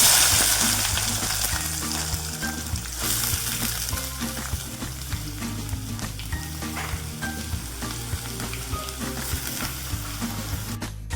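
Chopped ivy gourd frying with dried red chillies in hot oil, giving a loud, dense, continuous sizzle with faint crackles throughout and no talking.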